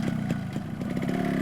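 A motorcycle engine runs close by with a steady, loud throbbing rumble and some rattling clatter, pulsing slightly as if just started and moving off.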